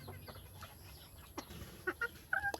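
Pet red junglefowl chickens cluck softly in a rural yard, sending out a few short, faint calls over quiet background noise.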